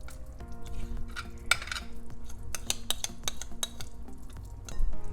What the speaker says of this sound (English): just mix it in the soup